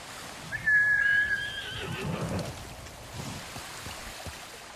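A horse in the video game Ghost of Tsushima lets out a single clear, high whinny up close, followed by soft hoof and movement noises over quiet ambient background.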